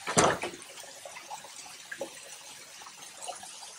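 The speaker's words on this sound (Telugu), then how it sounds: "So this is water fall in the room." An indoor waterfall runs inside a garden villa room at a resort in Ubud, giving a soft, continuous splashing and trickling close by, with one louder splash at the start.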